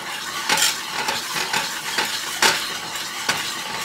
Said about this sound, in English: we want to whisk that until we have everything nice and smooth and homogeneous